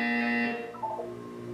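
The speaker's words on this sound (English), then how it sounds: "You will hear a buzzer." A sustained electronic buzzer tone from the video game Portal 2 sounds loudly, then drops and fades into a softer hum, short and alone.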